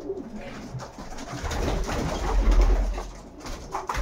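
Racing pigeons in a loft coo softly in low, rolling murmurs, blended into a steady rumble of background noise inside the coop.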